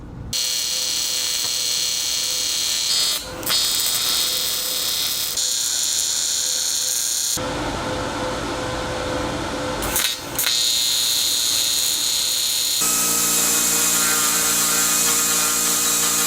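Loud, close crackling buzz of welding metal for a car's rear-mount radiator setup, running in several long bursts separated by short pauses.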